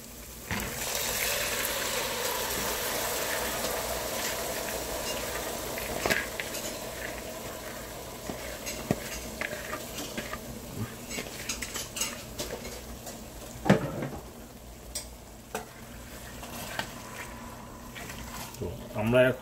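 Soaked chana dal is tipped into fried spices in a pot and stirred, with metal spoon scrapes, clinks and a wet stirring hiss. A person talks throughout.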